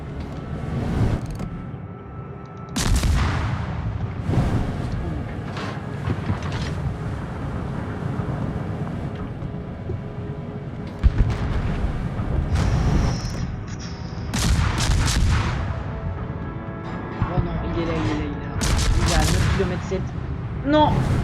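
Naval guns booming in a World of Warships sea battle, with repeated heavy blasts and shell impacts at irregular intervals over a continuous rumbling background, mixed with in-game effects and engine noise.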